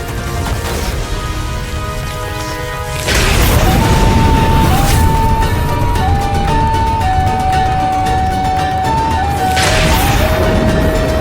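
A loud, sudden blast erupts over a sustained dramatic musical drone, followed by a rumbling roar and a second surge near the end, from a Hindi mythological TV series.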